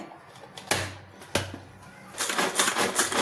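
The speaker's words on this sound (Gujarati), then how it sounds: "કોબીને ચોપરમાં ચોપ કરી લઈશું" Two sharp clicks of a hand-pulled chopper, then a rapid close rattling whir as its blades chop cabbage.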